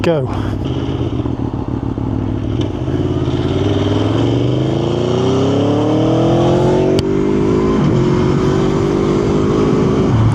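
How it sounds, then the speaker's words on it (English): A 2016 Aprilia V4 motorcycle engine revs loudly up close, with the pitch climbing through a long rising sweep, dipping, then climbing again over its rumbling idle. "So this is a 2016 Aprilia 210 V4"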